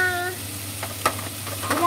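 Food simmering in a pot on a home stove during lunch cooking, a close, soft bubbling hiss with a few sharp clinks and stirring knocks.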